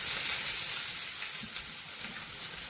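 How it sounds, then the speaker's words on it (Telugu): Sliced onions hit hot oil for a tomato chutney and set off a loud, dense sizzle, a continuous bright hiss close up that holds steady throughout with faint stirring underneath. "అలాగే ఉల్లిపాయలు వేస్తున్నానండి"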